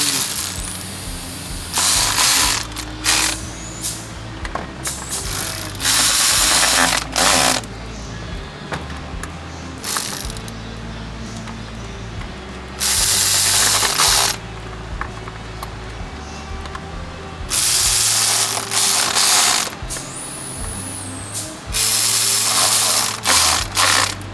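A ratchet wrench snugs down oil cooler bolts on a 2014 Volkswagen Tiguan, its rapid clicking coming close up in several bursts of a few seconds each, separated by brief pauses, with no voices.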